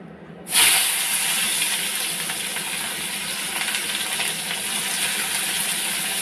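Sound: onion frying in hot oil

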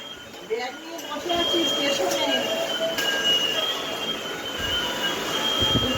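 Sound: toy Mini Vande Bharat train running

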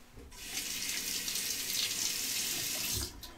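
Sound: razor rinsed under running tap water

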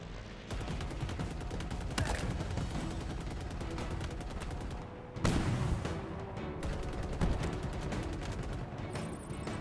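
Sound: sniper rifle fire in the video game Halo Infinite

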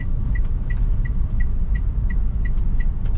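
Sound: Toyota Calya car pulling away, shifting into second gear

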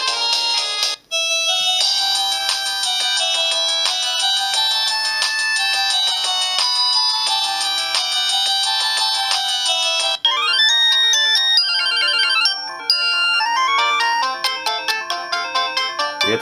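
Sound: Samsung D100 mobile phone ringtone playing

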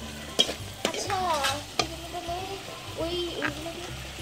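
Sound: stirring spices frying in a pan

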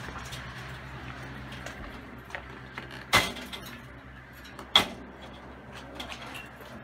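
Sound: door being opened to let a squirrel out

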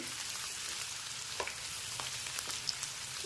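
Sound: onion frying in pan until golden

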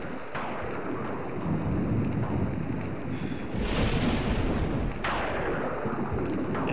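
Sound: rain and thunder in an RPG Maker video game

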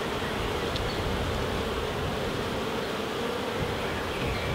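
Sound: honey bees buzzing around a beehive

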